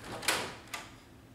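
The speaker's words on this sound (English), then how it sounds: "Open the cover of the printer." Cover of a Brother MFC-L laser printer being opened, giving two brief plastic clicks or clunks a fraction of a second apart, close and fairly quiet against a faint room hum.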